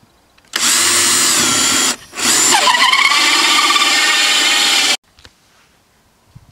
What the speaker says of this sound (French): vous faites un petit trou ici avec votre perceuse